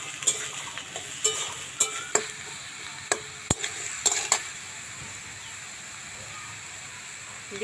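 Chopped bottle gourd frying in a pan with panch phoron spices gives off a soft sizzle, punctuated by sharp clinks and scrapes of a spatula against the pan every second or so.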